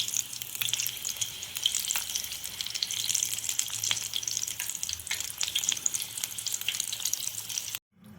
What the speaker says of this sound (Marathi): तर हे मी तेलात सोडले, आता या पद्धतीने सगळं तळून घ्यायचं आहे